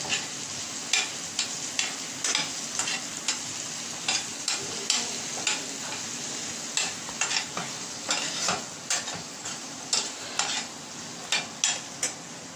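Chillies and leftover masala fry in a pan for achar gosht, with a steady sizzle beneath repeated scraping stir strokes that come in irregular, close bursts.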